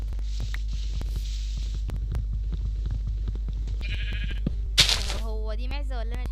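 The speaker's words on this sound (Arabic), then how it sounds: "هو دي معزة ولا انا شايفة ايه؟" A goat in the video game Minecraft bleats briefly near the end, a wavering call over a steady low electronic hum and game background sounds.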